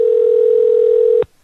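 A telephone dial tone hums as a steady, loud single pitch for over a second, then cuts off with a click as dialing begins, followed by a brief pause and another click.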